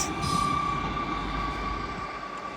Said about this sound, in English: Departing now is your 1258 Northern Train service from Sheffield to Scarborough, 158